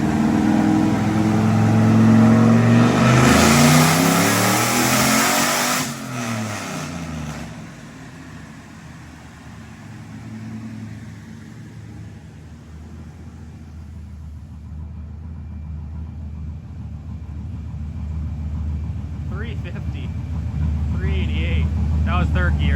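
A turbocharged OBS Ford drift truck on a dyno, its engine roaring loudly through a hard run, then dropping to a lower rumbling idle with a faint whistle near the end.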